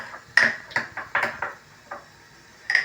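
Spoon clinking and scraping against a bowl while carrot and spinach idli batter is stirred, a series of sharp irregular knocks spaced across a few seconds, close and fairly clear with no talking.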